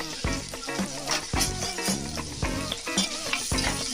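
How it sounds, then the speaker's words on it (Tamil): Onions sauteing in a pan for chicken kurma, a steady sizzle broken by rhythmic, close clatters of a spoon stirring against the pan. "வெங்காயம் நல்லா வதங்கிடுச்சு."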